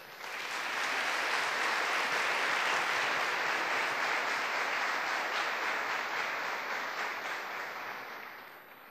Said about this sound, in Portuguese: Querida igreja, com carinho, vamos aplaudir Sandra Welsh.